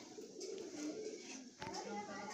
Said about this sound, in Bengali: একটা পুরনো ওল্ড জেনারেশনের পায়রা